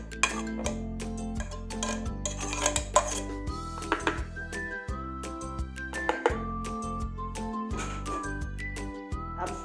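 Chopped chicken goes into a large bowl with repeated clinks and knocks of utensils against the dish, irregular and close, over steady background music.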